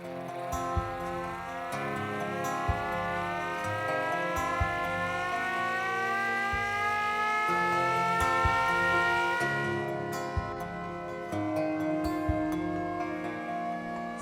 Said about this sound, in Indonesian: Ini merupakan sirine asli milik tentara Jepang yang mereka gunakan saat aktif bergerilya menjajah.